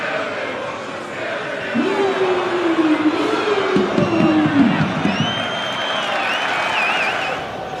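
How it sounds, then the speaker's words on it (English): A football stadium crowd applauds and cheers, a broad roar of clapping and shouting rising and falling, with a commentator talking over it. "Crowd applauding the drop of the shoulder."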